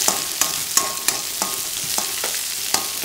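Sliced onions sautéed with a little salt sizzle in a pan while a spatula scrapes and taps through them in quick, fairly regular strokes, close and clear.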